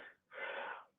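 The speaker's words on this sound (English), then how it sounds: "Sorry, I'm like sneezing." A single faint sneeze: a short intake of breath, then a breathy burst lasting about half a second, heard alone.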